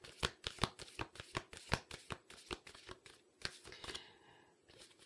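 Tarot cards being shuffled up close, a rapid run of crisp riffling snaps in steady rhythm that slows and fades into softer card handling at the end, quiet and without talk.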